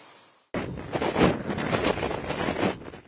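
Strong coastal winds roar during Cyclone Ditwah on the Tamil Nadu coast, where waves are rolling in. Loud, gusty, broadband buffeting bursts in abruptly and continues steadily, with no voices.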